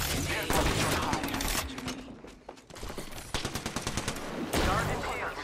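Gunfire in Apex Legends: loud rapid automatic bursts with cracking shots, a brief lull, then more rattling fire and a clipped run of single shots.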